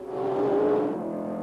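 Period race cars, a Ford GT40, an AC Cobra and a Ligier, battle during the Tour Auto historic rally, engines roaring loud and close in a sustained rising drone as they pass.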